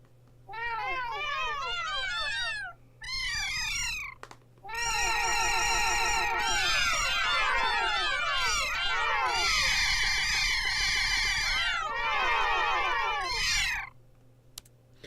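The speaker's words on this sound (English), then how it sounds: "I tried to play Jingle Bells, but the delay between pressing the button and the cat making the sound is so great" Cat meow sounds triggered from an iOS app while trying to play Jingle Bells, a rapid string of electronic meows in uneven bursts with short pauses, loud and close.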